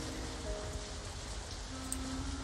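Steady rain pattering in the Halo ODST game recreated in Unreal Engine 5, a dense even hiss of drops on surfaces with a faint tone drifting through, no voices.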